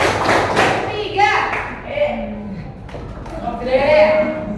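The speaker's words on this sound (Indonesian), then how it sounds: "tepuk tangan 1, tepuk tangan 2, tepuk tangan 3, tepuk 3" Children clap hands in a rhythmic counting game at a school warm-up, bursts of claps and thumps mixed with a teacher's chanting voice and kids' voices, close and loud.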